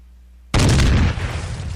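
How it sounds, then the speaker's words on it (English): An explosion blows a door off somewhere in the distance: a sudden broadband boom bursts out of near silence and then rolls on as a rumbling, crackling decay. "it hits the door and you hear an explosion in the distance"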